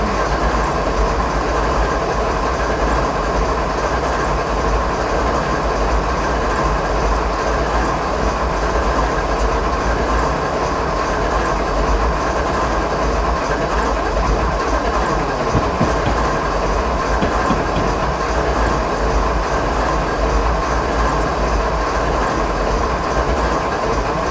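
A 100-car train in Train Simulator 2015 rumbles steadily along the rails, with a continuous low mechanical drone and faint clattering running throughout, fairly loud and close.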